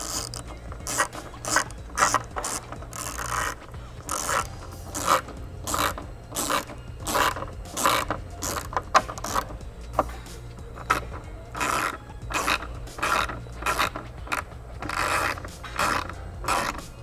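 Ratchet threading 8mm bolts into a carbon fiber diffuser on a 2023 Nissan Z, heard as bursts of rapid close clicking repeated through the clip with short pauses between runs.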